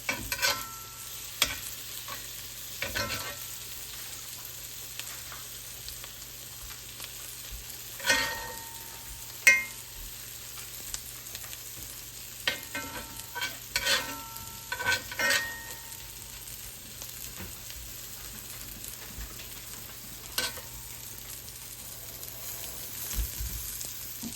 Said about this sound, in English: We're gonna use this butter more to kind of baste now.